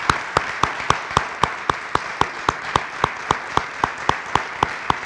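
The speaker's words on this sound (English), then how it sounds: "can we give them a round of applause?" An audience at a business hall of fame induction applauds honored employees, a steady crowd clapping under sharp rhythmic claps from one nearby person, evenly spaced about four per second, continuing for five seconds.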